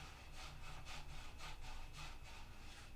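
Repaired wood at a tear is sanded by hand: steady back-and-forth rasping strokes, about eight in quick even rhythm, close and fairly quiet with no talk.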